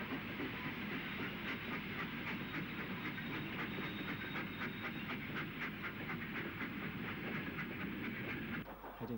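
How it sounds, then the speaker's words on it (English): A steam locomotive train departs for Marylebone on the UK's former Great Central line, rolling steadily past with a continuous roar, hiss and rhythmic clickety-clack of wheels, loud and sustained before ending abruptly. "as she leaves for Marylebone on the last through train of the day"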